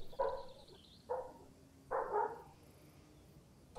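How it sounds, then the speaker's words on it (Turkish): Dogs at a home bark in three short, sharp bursts spaced about a second apart, somewhat distant and muffled, as if heard through a window, with a quiet room tone between barks. "Bizim köpekler çıldırdı."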